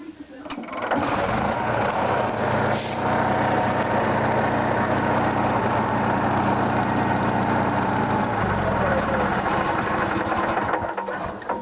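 A small Onan RV generator engine with a cracked exhaust header starts up and runs at a steady, loud drone with a rattling mechanical texture that continues throughout, close by.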